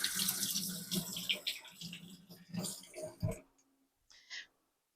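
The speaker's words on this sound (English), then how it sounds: "let me wash my hands." Tap water runs into a sink during handwashing with a close, splashy, uneven hiss that surges and fades in several bursts, then stops, followed by a short final splash.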